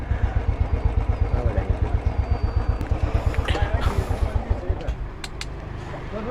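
A large group of motorcycles idles and rumbles close by with a steady pulsing throb as about 25 bikes are brought in to park together, the engines cutting out toward the end.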